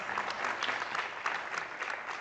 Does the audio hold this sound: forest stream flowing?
no